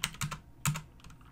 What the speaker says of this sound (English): You can just type in enable, hit the enter key